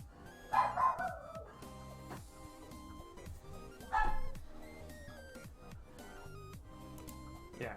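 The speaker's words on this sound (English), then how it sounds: "sorry about the dogs" Dogs bark in two short bursts close by, over a steady background of game music and tones, with a faint whimper or yip between barks.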